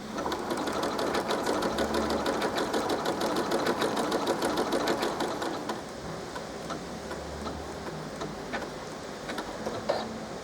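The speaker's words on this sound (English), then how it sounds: "and we'll start sewing." Janome Memory Craft 15000 sewing machine stitching with a fast, steady mechanical clatter, running loud and evenly and then slowing slightly near the end, heard close up with no talking.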